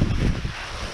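Strong outdoor wind beside a dumpster, a loud low buffeting roar blasting across the microphone, heaviest at the start and easing slightly over one second.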